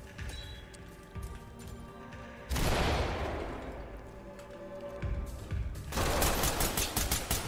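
Gunfire in the tactical shooter game Ready or Not, repeated bursts of rapid shots and sharp reports, loud and close, with dense overlapping volleys throughout.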